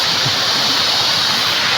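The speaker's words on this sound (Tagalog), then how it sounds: "Pangalawang ilog, pangalawang tawid." A river rushes steadily at a foot crossing on the way to farm fields, a loud, continuous broadband roar of flowing water with no voices.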